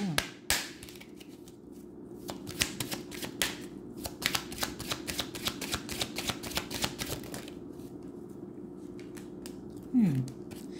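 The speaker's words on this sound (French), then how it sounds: "Je vous tire vos cartes de Romance Angel." Romance Angel oracle cards shuffled in a long run of quick crisp riffling flicks, then a few soft taps as cards are drawn and laid down, close and alone.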